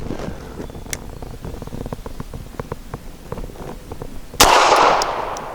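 A Bersa Thunder 380 pistol with a threaded barrel fires one loud, sharp shot close by near the end, after a stretch of faint outdoor rustle and small ticks.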